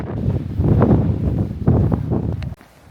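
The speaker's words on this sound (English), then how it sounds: "on the top of a very windy hill" Wind buffets a microphone on a hilltop holiday motorhome site in the UK in steady low rushing gusts that drop away abruptly near the end, with no voices.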